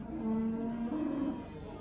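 Cattle at the Lenger livestock market give a low, sustained moo lasting about a second, fairly close and steady over a busy background murmur.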